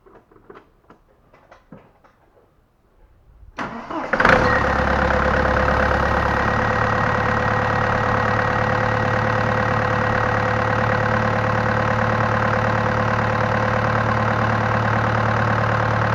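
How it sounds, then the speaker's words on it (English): A Mahindra Scorpio Turbo 2.6 diesel, non-CRDE, cranks briefly and fires up, then settles into a loud, steady, clattering idle that runs unbroken for over ten seconds, close up with no talking. "Now let's go ahead and start the engine."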